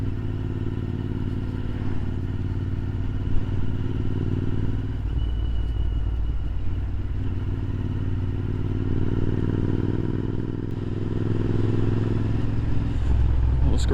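A Royal Enfield Interceptor 650 motorcycle is ridden on the road, its engine droning steadily with a low rumble that rises and falls through gear changes, mixed with wind and road noise throughout.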